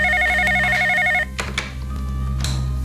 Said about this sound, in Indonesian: Saya telepon Ranti dulu.